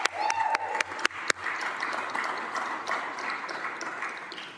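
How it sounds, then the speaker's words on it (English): Applause from a public works meeting audience fills the room softly after a few sharp mechanical clicks and pings at the start, continuing as a faint, steady clapping wash. "So give yourselves a round of applause again."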